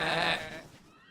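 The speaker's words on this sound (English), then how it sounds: "Thank you, sheep, for playing with Woofy and wearing him out." A sheep lets out a single loud, wavering bleat close by that fades away within about a second.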